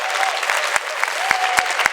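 Audience applause at a lecture, steady close clapping from a crowd throughout, with a few sharper individual claps standing out.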